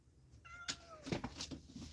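Kittens meow inside a pet carrier, several short, high, rising cries in quick succession close to the microphone, with faint handling rustle between them.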